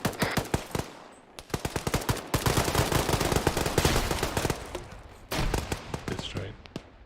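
Rapid automatic gunfire crackles in long bursts during a military field training exercise, with sharp shots and a brief pause between volleys, loud and close.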